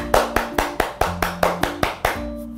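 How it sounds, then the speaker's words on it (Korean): Steady clapping from a single pair of hands, about eight sharp claps at an even pace, close and fairly loud, with a low hum underneath. "수고하신 모든 분들께 수고와 격려의 박수 하도록 하겠습니다"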